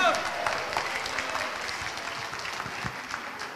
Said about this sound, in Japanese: 皆さんの拍手をいただいてもうもりもり元気が出てまいりました。